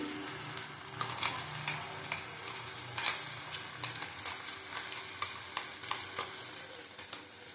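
Boiled onion paste fries in a pan with a soft, steady sizzle, broken by intermittent scraping clicks as it is stirred.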